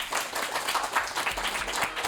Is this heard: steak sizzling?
no